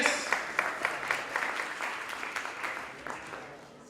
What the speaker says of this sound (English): Another round of applause for Musa